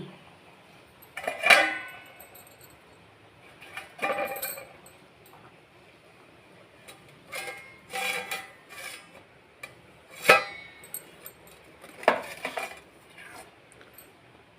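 A pot of fish curry in a home kitchen is handled and covered with its lid, giving several separate metallic clinks and clanks spaced apart over a quiet background, with no talking.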